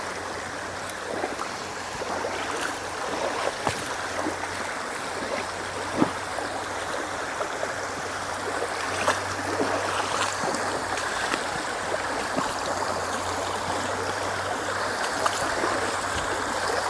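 Clear wild trout river flowing around someone wading upstream beneath a mossy cliff, a steady close rush of water with scattered splashes and sloshing steps throughout.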